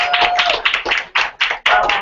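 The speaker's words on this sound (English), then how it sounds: "So I do want to applaud Valerie." A business meeting audience applauds Valerie with dense, steady clapping that swells and dips in several waves, close and fairly loud, with no talk over it.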